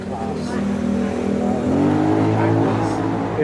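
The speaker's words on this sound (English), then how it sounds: "Some of these noises out of motorcycles." Motorcycles revving loudly nearby in Bangkok, Thailand, with rising and falling tones.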